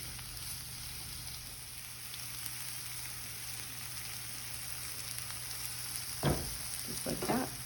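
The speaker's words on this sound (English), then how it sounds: "Saute them for a few minutes." Vegetables sautéing in a pan seasoned with garlic salt and soy sauce, a steady soft sizzle throughout, then a few louder scraping stirs near the end, with no voices.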